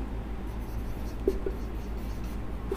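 Writing during a chemistry lecture, probably a marker or pen on a board: soft faint strokes and a couple of light taps over a low steady background hum.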